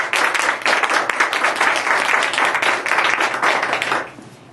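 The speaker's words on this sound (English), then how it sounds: "let's give them a round of applause for that." A room full of people claps steadily for about four seconds, a dense, even applause that fades out at the end.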